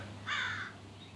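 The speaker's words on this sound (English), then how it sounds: "there's a bird." A single bird calls once outdoors, a short raspy caw-like cry lasting about half a second over a steady low hum.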